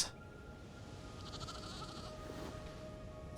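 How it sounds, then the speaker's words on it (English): A sheep bleats in the video game Aloft, a faint wavering call rising from a quiet ambient background, with the bleat heard softly near the middle. "Oh, there's the other sheep."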